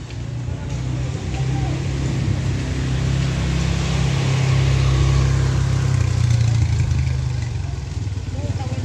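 A motorcycle brought in for servicing runs steadily in a Mexican town alley, a continuous low engine drone with slight rises and falls, loud and close throughout.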